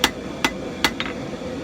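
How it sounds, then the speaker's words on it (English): Hammer blows on a twisted steel bar at an anvil during blacksmith forging, four sharp metallic strikes, the first three evenly spaced about half a second apart and the last coming quickly after the third. "you're going to go back to the anvil and gently forge this thing back to square"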